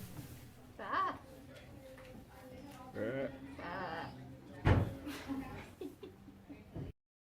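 Several wavering sheep bleats rise over a low background murmur, with a louder burst near the end; the calls sound moderately close.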